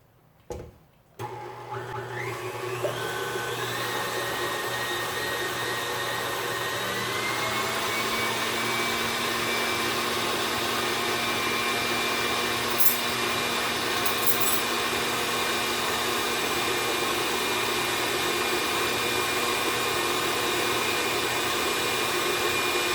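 An electric mixer whipping egg whites with cream of tartar for a meringue, starting after a few brief clicks and then holding a steady, loud motor whine that rises slightly in pitch and runs on alone.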